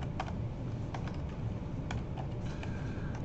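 Computer keyboard typing in quick, light bursts of clicks, close but quiet, with short pauses between runs of keystrokes and no speech.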